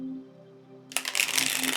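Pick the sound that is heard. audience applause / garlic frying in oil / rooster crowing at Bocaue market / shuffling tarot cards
shuffling tarot cards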